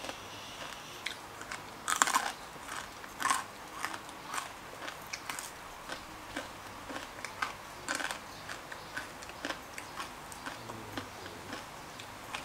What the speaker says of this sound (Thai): หมูกรอบพี่น้องกรอบด้วยค่ะ